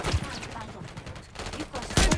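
Gunfire and explosive bursts from the Call of Duty MW3 video game, with dense rapid shots throughout and a sharp loud blast near the end.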